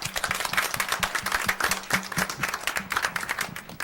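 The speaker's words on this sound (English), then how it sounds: "I would just like to give him a round of applause." A round of applause at a Board of Education meeting, many hands clapping steadily and fairly close for about four seconds, with no talking.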